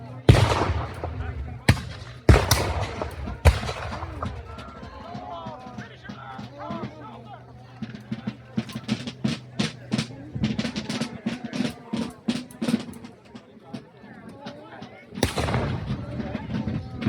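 Booming cannon blasts and rapid crackling musket fire erupt in bursts, with voices shouting in between during a loud outdoor battle reenactment of the Siege of Fort Erie.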